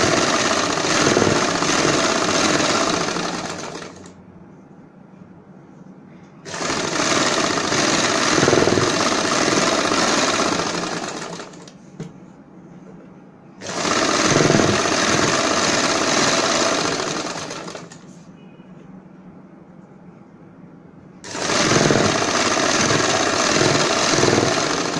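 Electric sewing machine running in bursts while stitching ribbed fabric for a churidar pajami, four loud sustained whirring runs separated by quiet pauses, close up.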